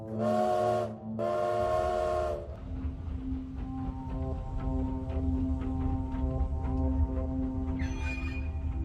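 Two long, loud steam train whistle blasts sound, then the train chugs and hisses steadily as it pulls away, with a faint whistle near the end.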